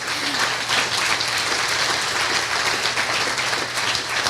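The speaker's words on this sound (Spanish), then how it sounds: "Dale un aplauso a Dios si lo crees" Worshippers in a church applaud steadily for God during a sermon, an even wash of many hands clapping with a low hum underneath.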